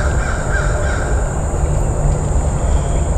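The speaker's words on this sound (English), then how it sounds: "Our crows narking us out again." Crows caw repeatedly in Arkansas woodland over a constant bed of outdoor background noise, with no talking.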